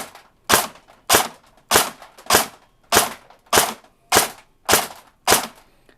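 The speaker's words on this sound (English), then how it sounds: "we're going to get 10 shots off and see how the FPS consistency is with the OEM gear set" Airsoft SR25 rifle on its stock gear set, powered by an 11.1 V LiPo battery, fires 0.2 g BBs in ten sharp, evenly spaced shots about half a second apart, each one loud and close with no talking.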